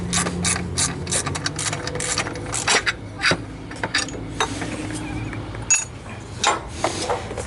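A ratchet wrench clicks in quick bursts while loosening a 15mm bolt on a Chevy 5.3 Vortec LS engine, rapid pawl ticking close up, interrupted by metallic knocks and pauses.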